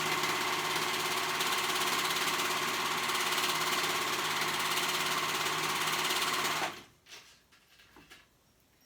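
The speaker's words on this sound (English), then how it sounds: "So now I'm gonna go ahead and sew those raw edges together" A sewing machine stitches the raw edges of a dress, running as a loud, steady mechanical whir for about seven seconds before stopping abruptly, leaving quiet rustling handling noises.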